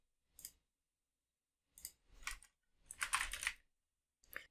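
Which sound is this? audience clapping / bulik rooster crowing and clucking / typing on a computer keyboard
typing on a computer keyboard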